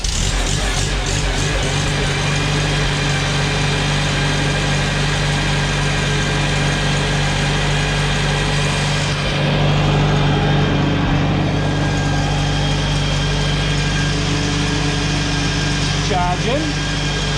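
A Farmall Super C tractor engine runs with the choke applied, giving a steady, close, loud engine drone with vibration throughout. Someone speaks over it at times.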